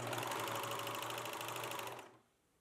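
A serger sewing machine stitches a thread loop in a steady, fast mechanical whir with rapid regular needle clatter, close and loud for about two seconds before stopping abruptly into near silence.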